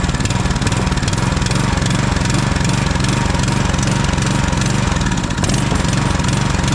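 A Duramax 212cc bi-fuel small engine running on test, a loud, close, continuous chugging drone at steady speed with a slight dip near the end.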